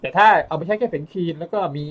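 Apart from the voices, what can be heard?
No distinct noise like a dog, phone or traffic.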